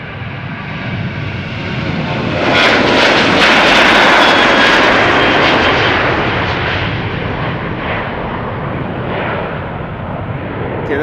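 A KLM Boeing 737 in SkyTeam livery departs Schiphol Airport. Its jet engines give a loud, broad roar that swells to a peak and then slowly fades as it climbs away, with no talk over it.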